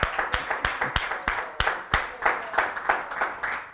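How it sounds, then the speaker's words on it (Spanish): Congregation applauding during a church service: a steady run of sharp, close handclaps with a loose irregular rhythm that carries on for the whole stretch, without speech. "Aplausos para Cristo."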